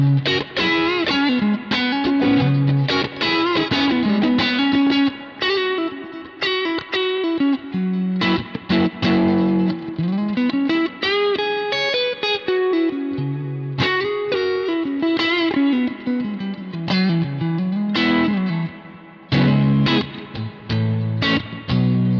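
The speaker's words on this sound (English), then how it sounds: "Clarity with no clarity, or with the clarity control at default 0, sounds like this." Electric guitar through a Kemper profile of a Fender amp with the clarity control at its default of zero, playing a driven, chorus-tinged melodic riff that runs loud and continuous with short gaps between phrases.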